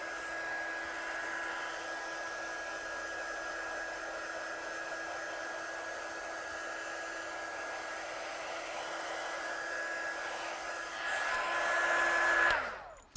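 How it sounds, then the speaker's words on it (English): Heat tool blowing to dry ink on a craft project, a steady whirring blower hum with a constant high whine, held evenly and close, swelling louder near the end before cutting off. "So let's just push this along a little bit with a little bit of heat just to dry."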